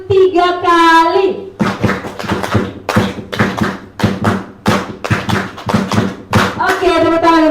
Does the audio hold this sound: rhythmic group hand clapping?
yes